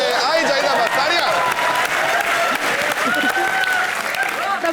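Studio audience applause at a Hindi TV comedy show, dense steady clapping sustained throughout at close, even loudness, with a possible voice faintly mixed in.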